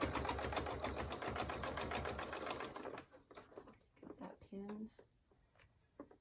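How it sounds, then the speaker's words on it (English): A sewing machine stitches a fabric face mask in a steady, dense run of rapid needle strokes, then stops; short bursts of handling noise and brief stitching follow, close and fairly quiet. "I'm going to just keep sewing down this, and I'm going to fold it over as I go"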